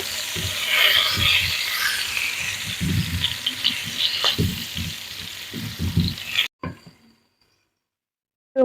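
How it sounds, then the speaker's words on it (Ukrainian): Young potatoes sizzle and crackle in a hot pan while a utensil scrapes and stirs them in bursts, then the sound cuts off abruptly. "Посолили, поперчили і зараз будемо перемішувати."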